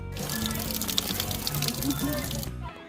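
Spring water flows steadily through a resort swimming pool and spills over, making a continuous close splashing gush that cuts off abruptly at the end.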